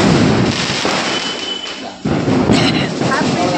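Diwali firecrackers burst during a family celebration at home, a loud crackling, thudding barrage that fills the whole stretch with a brief lull near the middle, while voices call out underneath.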